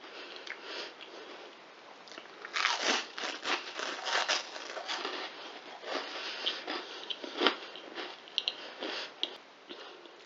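Crunchy spiced homemade bread chips bitten and chewed close up, a run of crisp crackling crunches with brief pauses between bites, no talking.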